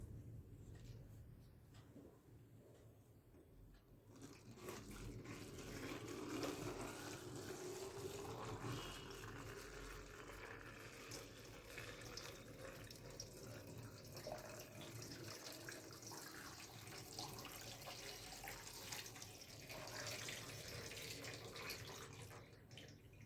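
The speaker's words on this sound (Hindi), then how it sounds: "अब मैं इसमें वाटर डालूंगी धीरे धीरे।" Water poured slowly into a plastic bottle pierced with holes, a steady running and trickling wash that swells after a quiet start and continues at an even level for about twenty seconds, with no talking.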